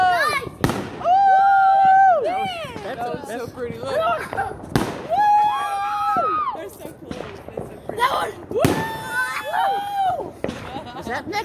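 Fireworks going off in a neighborhood on New Year's, with several sharp cracks and bursts among excited voices that talk and shout throughout.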